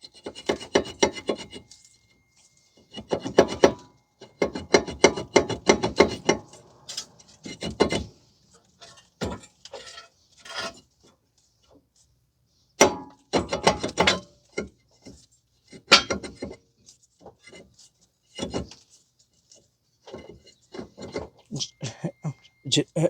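A rusty front brake rotor on a 2012 Ford Fusion 2.5 is worked loose from the hub, giving repeated close scraping and rasping bursts of metal on metal separated by short pauses.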